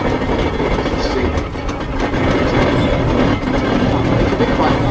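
A steam engine running at a steam and country fair, a continuous heavy rumbling chug with clattering mechanical knocks and faint hiss, with voices murmuring in the background.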